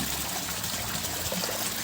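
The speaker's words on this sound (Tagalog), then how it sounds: "hulat lang ta mga parikoy nga mag gamay na na yung tubig na atong ginadrain" Water trickling steadily as a concrete tilapia pond about 3.5 feet deep is drained, a faint continuous splashing flow with no voices.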